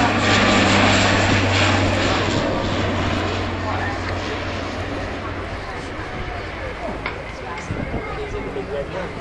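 An Avro Vulcan bomber flies slowly past at an airshow alongside two small aircraft, a loud, steady engine roar that gradually fades, with a commentator talking over it.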